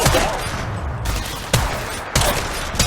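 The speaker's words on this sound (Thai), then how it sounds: "แล้วกำลังยิงนะกำลังโดนยิง กำลังสู้กับศัตรู" Gunfire in the mobile battle-royale game Apex Legends Mobile, a dense fusillade of rapid shots filling the whole stretch with sharp fresh bursts at about 1.5 and 2.1 seconds, loud and with no talk.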